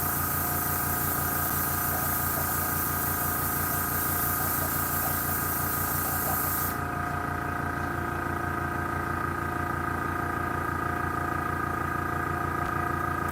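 An airbrush with a big needle sprays olive drab primer, a steady airy hiss over a constant compressor hum, until the spray cuts off partway through and only the hum continues.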